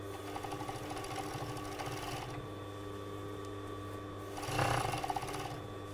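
An overlocker sewing machine stitches along fabric for a boxy top, a fast, even mechanical chatter heard close but soft, running steadily and swelling briefly louder near the end, with no talk.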